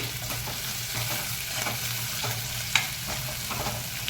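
Sliced onions and curry leaves sauté in a pan for a ridge gourd chutney, giving a steady close sizzle broken by a few light stirring scrapes.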